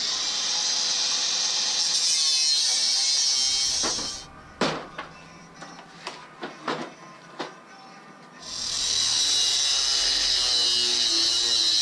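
A power tool cuts through a thick turbo manifold flange on an LSVTEC EG9 turbo kit install, a loud steady high-pitched grinding run that stops for a few seconds of tapping and clanks, then resumes just as loud.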